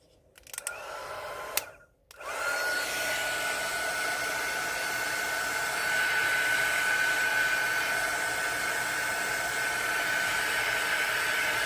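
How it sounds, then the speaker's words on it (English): A heat gun drying casting powder pigment starts after a few short clicks and handling noises, then blows as a steady, fairly loud whooshing hiss with a faint high whine for the rest of the clip. "I wonder if you can dry it with a heat gun."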